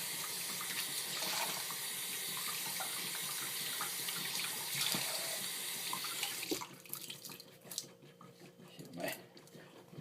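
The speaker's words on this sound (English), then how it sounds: "Go ahead and clean up my bowl or my shave mug and my soap and rinse it out." Tap water runs steadily into a sink as a shave bowl and soap are rinsed out, loud and close for several seconds, then it stops abruptly into quieter splashes and handling noises, with speech heard faintly underneath.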